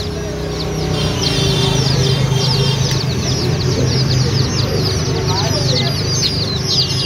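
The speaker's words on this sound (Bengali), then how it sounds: "শ্রীরামপুর হাটে রয়েছে কালারিং মুরগি" Dyed chickens in pink, yellow, green and red, sold at the Serampore bird market, give off a busy stream of bright, repeated chirps and clucks close by over steady crowd and market noise, with voices in the background.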